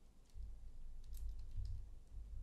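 Faint, sparse key clicks from a computer keyboard as a terminal command is typed on an Ubuntu machine, quiet over a low steady hum.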